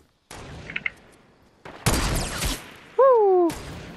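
Game gunfire in Fortnite: a few sharp bursts, with a heavy broadband blast in the middle, followed by whistling in-game effects and another loud hit.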